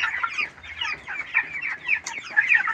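A flock of chickens clucks inside a poultry farm shed, busy overlapping calls rising and falling in short bursts, fairly close and loud, with no talking.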